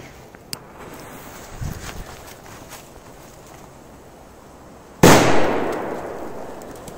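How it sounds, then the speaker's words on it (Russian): A butterfly firecracker bursts with one sharp loud bang outdoors, trailing off into noisy decay, after a stretch of faint rustling, footsteps and a small pop. "Есть последняя петарда взорвалась."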